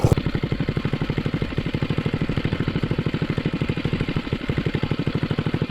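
A 420cc minibike engine runs steadily and loud close by, its rapid, even firing pulses keeping a constant rhythm throughout with no speech over it.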